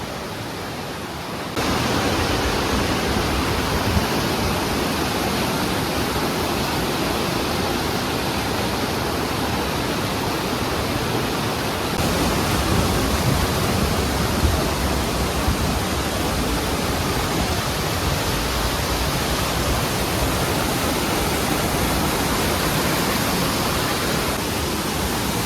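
A waterfall in a gorge in New Hampshire gives a loud, steady, broadband rushing roar that starts abruptly and holds unbroken to the end, with no voices.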